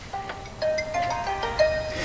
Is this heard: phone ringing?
yes